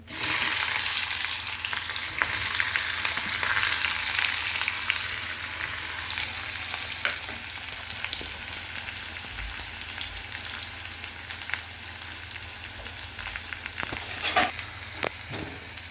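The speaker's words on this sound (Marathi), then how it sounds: "कांदा असा चांगला गुलाबी याच्यावर भाजायचा येईपर्यंत असा चांगला भाजून घेऊया तेलावर" Onion fries in hot oil in a pan with cumin seeds, a steady bright sizzle with scattered crackles and occasional stirring scrapes, close and even throughout, no speech.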